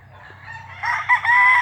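A single rooster crows nearby, the call rising and holding loudly toward the end over a low background hum.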